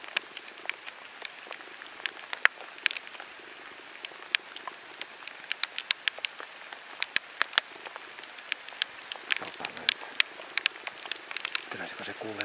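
Morning rain patters steadily in a forest, with scattered individual drops tapping sharply on nearby surfaces throughout, faint and continuous, with no voices.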